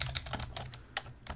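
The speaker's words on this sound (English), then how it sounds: "Yeah, natural keyboard, hell of a lot better." Rapid clicking keystrokes on a natural computer keyboard while entering a BASIC program on a Color Computer, a quick irregular run of crisp taps, close and fairly quiet, with no talking.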